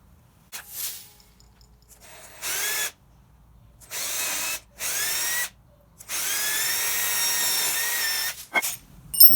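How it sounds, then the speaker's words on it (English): A power drill bores through a 2x4 board for a cornhole build, in five separate whining bursts of rising then steady pitch, close and loud, with quiet pauses between them and the longest run near the end. "I'm going to drill through a little bit more so I can mark my holes"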